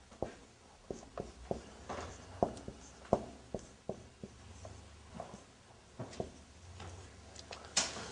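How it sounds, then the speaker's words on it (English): Chalk or marker strokes on a classroom board during an Arabic grammar lesson, a series of sharp taps and scratches in an irregular rhythm, close and moderately loud, with no talk. "So I'm going to write it."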